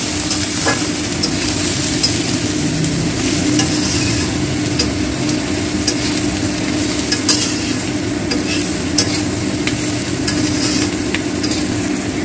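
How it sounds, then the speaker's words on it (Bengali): Turmeric, Kashmiri red chilli powder, cumin and coriander powder are stirred and fried in a pan for mutton curry, giving a steady close sizzle with continuous scraping stir strokes and no talk throughout. "হলুদ কাশ্মীরি লাল লঙ্কার গুঁড়ো জিরে আর ধনে গুঁড়ো একটু নাড়িয়ে নিই"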